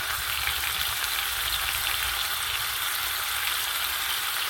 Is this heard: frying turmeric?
yes